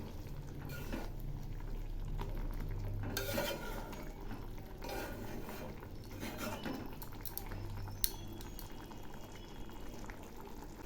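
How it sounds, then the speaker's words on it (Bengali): Cauliflower korma with fried onions being stirred in a pan, a steady bubbling simmer with soft scraping strokes of a spoon against the pan, moderately close and without talk. "আবার একটু নেড়ে দিচ্ছি"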